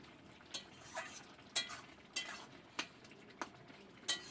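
A utensil stirs prawns in a cooking pot for a Bengali banana-flower dish, with faint, evenly spaced scraping clinks about every half second and no talk.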